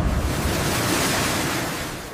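Rushing water released into a desert channel, a steady broad roar of churning flow with a windy hiss, loud and continuous throughout.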